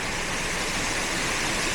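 Continuous rushing roar of a waterfall near Geddai in the Nilgiris, dense and steady with no breaks, loud and close.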